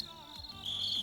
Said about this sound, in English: The crickets always take like 30 seconds to start for some reason.